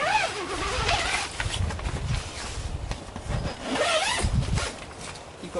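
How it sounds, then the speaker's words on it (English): Single zip door of a BlackWolf Turbo Lite Twin tent being zipped all the way around, a close, continuous rasping zipper run in several long strokes with brief pauses between them. "So the door just zips all the way around."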